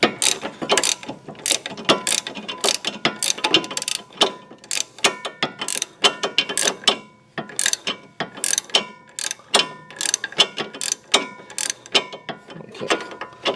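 A ratchet tightens the stabilizer end link nut on a 2007 Pontiac G6, clicking in rapid bursts of sharp, close, loud ratcheting strokes with brief pauses between swings; no one speaks.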